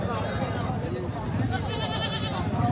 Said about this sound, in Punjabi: ਸੋਹਣੀਆਂ ਮਾਸ਼ਾਅੱਲਾ ਬੱਕਰੀਆਂ ਜਿਵੇਂ ਕਿ ਤੁਸੀਂ ਦੇਖਦੇ ਦੋਵੇਂ ਹੀ ਗੱਬਣਾ ਨੇ